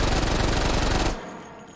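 Mac 10 submachine gun with a shroud fired in the VR shooter H3VR, one very fast, loud burst of just over a second, then a quick fade into a quiet tail.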